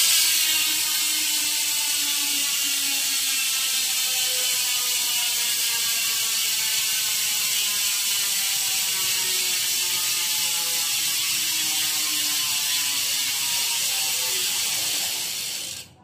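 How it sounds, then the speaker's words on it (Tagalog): A Hassns Pro 7 bicycle hub wheelset freewheels with a rapid, continuous ratchet buzz from the freehub pawls, loud and close, slowly winding down over about fifteen seconds before cutting off. "So ganito ang tunog ng wheel set ko."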